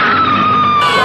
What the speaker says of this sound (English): Yeah, scream some more, maybe he'll finally go away.